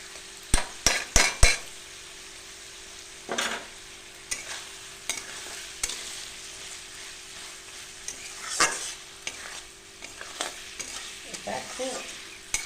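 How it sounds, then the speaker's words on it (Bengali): An egg dish with a little sauce being stirred in a frying pan: a burst of sharp spatula clacks at the start, then soft sizzling under intermittent scrapes and taps as it is turned over, close and clear. "এবার আমি এর মধ্যে একটু সামান্য একটু সস দিয়ে এটাকে নেড়ে চেড়ে নামিয়ে দিই।"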